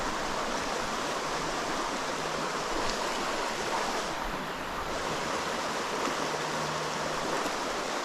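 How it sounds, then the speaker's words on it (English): Fast trout-stream riffles at Bellefonte, Pennsylvania rush and hiss in a steady broadband wash of flowing water, close and continuous for the whole stretch with no voices. "We're kind of walking through this faster set of riffles."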